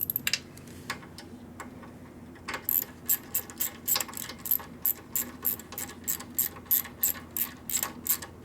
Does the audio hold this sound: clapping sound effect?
no